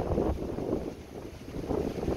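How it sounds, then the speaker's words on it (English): Wind gusts buffet the microphone outdoors at a metal-detecting dig site, a low rumbling roar that rises and falls throughout. "Gonna be really windy today, guys."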